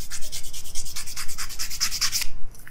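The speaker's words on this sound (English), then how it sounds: "Now, again, using our sandpaper, we will take the cylinder out and we're just gonna hold it in our hand" Quick, rhythmic back-and-forth scrubbing as sandpaper is worked by hand over the back of a wooden spoon, about a dozen even strokes close up before stopping.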